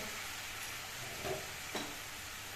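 Chicken pieces fry in a pan with a quiet, continuous sizzle and a couple of soft clinks or stirs partway through. No one speaks.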